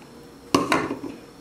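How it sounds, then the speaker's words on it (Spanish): Oil being beaten into almond cupcake batter in a bowl gives two sharp clinks of the utensil against the bowl, followed by a softer, uneven stirring noise. It is close and clear, with no talking. "Se lo voy a ir agregando y voy a ir batiendo."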